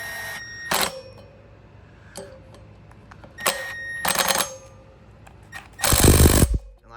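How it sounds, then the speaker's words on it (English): Milwaukee M12 impact driver tightening screws on the front brake rotor of a KLX140 dirt bike wheel, several short rattling bursts separated by pauses, the last one longest and loudest, close by. "That's what I love about the Milwaukee impact driver."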